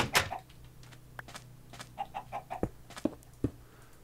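Chickens in the Minecraft video game give a string of short, sharp clucks, spaced irregularly over a quiet low hum, with no talking.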